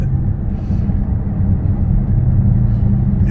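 A tuned Dodge Charger engine sits close and loud with its rev limiter removed, giving off a deep, throbbing low rumble that holds steady throughout the short stretch.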